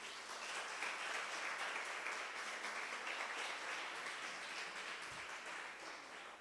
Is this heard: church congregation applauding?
yes